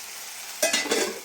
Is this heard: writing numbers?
no